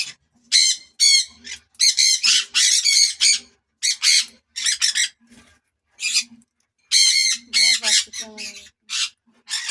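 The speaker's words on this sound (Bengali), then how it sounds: "তো এসব খুবই হচ্ছে কি পোষমানা পাখি, টেম পাখি" Tame pet birds for sale squawk loudly and close by in repeated harsh bursts, calling in rapid clustered volleys separated by short pauses, with no other sound between them.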